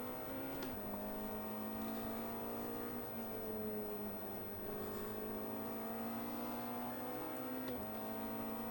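A BMW race car engine in the Automobilista 2 racing game drones loud and steady, its pitch climbing and falling through gear changes with the tonal whine of shifting revs, no voices.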